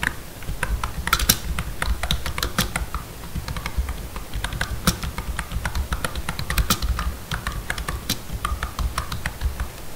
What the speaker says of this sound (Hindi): typing and sound test